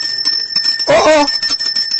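A small bell rings in steady, sustained tones throughout, with a voice talking over it, briefly louder near the middle.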